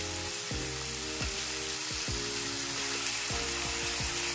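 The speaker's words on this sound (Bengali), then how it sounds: "দিয়ে মাছটা ভাজা ভাজা করে নিচ্ছি" A steady, dense sizzle of small kachki fish frying in hot oil over a gas flame fills the clip, loud and continuous, with a few low hums beneath and no talking.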